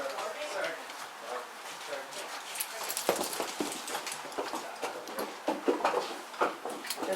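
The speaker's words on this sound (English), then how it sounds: "Horses are coming in." Horses being led in at a busy weekend stable, light hoof clip-clops scattered at a moderate distance under a person talking.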